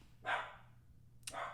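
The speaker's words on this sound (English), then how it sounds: "Sorry about my dog, guys." A dog barks twice indoors, two short, fairly loud woofs about a second apart over a quiet room hum.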